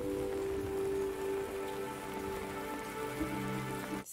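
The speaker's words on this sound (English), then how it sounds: "Rain's gonna be a big element in this film." Steady rain from a John Wick movie scene patters on surfaces as a continuous hiss, quiet and even, under a low sustained tonal drone, with no voices.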